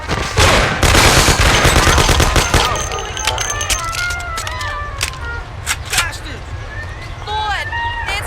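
Rapid bursts of gunfire in the video game Mafia, a dense loud volley of shots that thins into scattered single cracks while people shout and talk over it.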